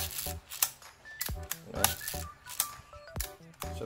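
Several crisp mechanical clicks from a Yashica Electro 35 rangefinder camera's leaf shutter firing at normal speed, spaced roughly every half second in a quiet room, close and fairly loud with no talking.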